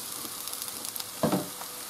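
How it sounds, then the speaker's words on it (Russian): Boneless chicken thigh pieces fry with browned onion in a pan, giving a quiet, even sizzle with a soft clatter as pieces drop in midway. "После того, как лук подрумянился, я сюда кидаю куриные бедра"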